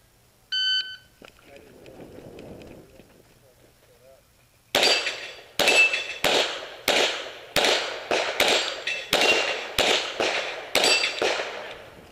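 A start beep, then a rapid string of pistol shots rings out at a steel plate rack during a USPSA production-division match, about ten sharp, loud cracks in quick rhythm with short gaps between.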